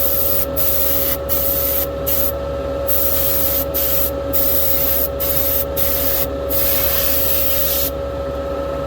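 A spray gun lays a heavy coat of paint onto a model race car part, hissing loudly in bursts with brief pauses between passes, close by with a steady low hum beneath.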